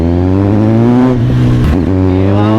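A Kawasaki Z900 motorcycle engine running loud and close, idling with a deep steady throb and rising briefly in a short rev before settling back.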